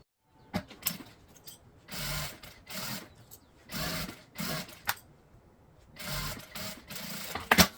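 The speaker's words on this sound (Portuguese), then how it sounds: "Passa uma costura de segurança e somente depois nós vamos posicionar o interno." A sewing machine runs a safety seam on a box-style toiletry bag, stitching in short repeated bursts with brief pauses and light fabric handling between runs.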